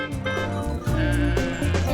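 Sheep and goats grazing on Corsica let out several loud, close bleats in quick succession, wavering calls overlapping one another.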